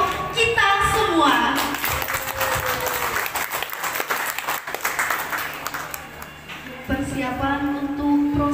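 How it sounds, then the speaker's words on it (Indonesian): Applause from parents and guests at a kindergarten and playgroup school event in Mronjo: a sustained burst of clapping across the room, mixed with music and a voice speaking over a loudspeaker. "mari kita beri tepuk tangan yang sekali lagi untuk kita semua"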